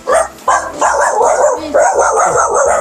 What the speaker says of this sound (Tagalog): Ayaw tayo papasukin ng aso.